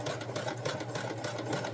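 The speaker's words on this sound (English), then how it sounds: "I'm just sewing a 1/4 inch all the way down" A sewing machine runs steadily for a short stretch, its motor whirring evenly while it stitches a quarter-inch seam along fabric squares for Christmas bunting. The sound is close and quiet, with no voice heard over it.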